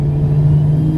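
A fast car's engine holds a steady, loud, low droning hum from inside the cabin while driving, with no talking.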